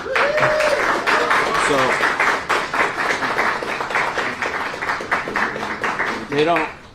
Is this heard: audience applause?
yes